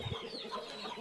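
Hens at a poultry farm give a couple of short, soft clucks at the start, followed by faint farmyard murmur for the rest of a brief moment.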